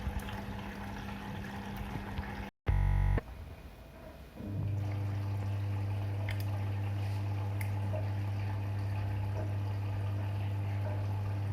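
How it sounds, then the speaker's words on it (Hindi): Water runs into a Bosch fully automatic front-load washing machine as its fill cycle starts, a steady low hum and flow sound after a brief clunk, continuing evenly and alone. "तो आप देख रहे हैं कि यहाँ पे पानी गिरना स्टार्ट हो"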